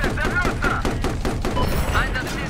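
Rapid bursts of anti-aircraft gunfire in Battlefield 4 on the Lancang Dam map, a loud, continuous rattle of rounds layered with explosions, with a player talking over it.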